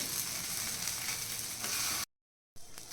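Poha breakfast pieces frying in a pan over a medium gas flame, giving a steady, dense sizzle that cuts out abruptly and then resumes more faintly.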